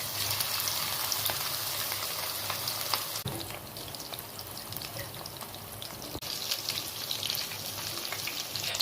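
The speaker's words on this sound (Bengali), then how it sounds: "তেলটা যখন গরম হয়ে গেছে তারপর চিকেনগুলোকে আস্তে আস্তে হাতের সাহায্যে ছেড়ে একটা একটা করে ভেজে তুলে দিয়েছি" Chicken pieces fry in hot oil in a wok, a continuous bubbling sizzle with brief crackling bursts and a couple of sharp clicks, steady and close without speech.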